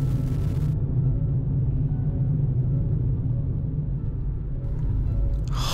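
A car drives along National Route 10 between Kajiki and Sakurajima, giving a steady, loud interior road rumble and engine drone that holds for the whole stretch without talking.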